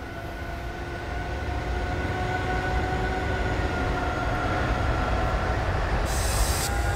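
An S-Bahn electric commuter train in Train Simulator 2020 rolls steadily on the Leipzig to Bitterfeld line, with a loud continuous rumble, steady motor whine and wheel noise, and a brief hiss near the end.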